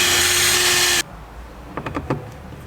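Power drill boring holes through car door metal, a loud steady whir that cuts off abruptly, followed by a few short clunks and taps.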